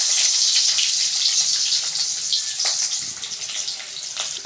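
Chopped onions hissing and sizzling in hot oil after mustard seeds have popped, cooking for a Tamil egg fry, a loud continuous sizzle with no talking.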